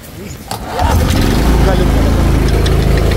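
A small engine coughs and catches at a workshop, then settles into a loud, steady running drone that continues to the end, with a voice speaking over the start.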